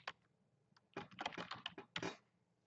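Typing on a computer keyboard while entering a player's uniform number into basketball scoring software: a few isolated keystrokes, then a quick cluster of close, crisp key taps with a brief pause before a final short burst.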